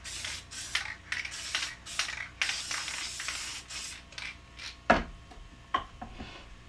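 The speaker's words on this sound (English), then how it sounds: "So again, I'm going to use my spray glue." Spray glue from an aerosol can at a paper crafting table, heard as a series of short hissing bursts of varying length, fairly close, with a louder puff near the end and no talk.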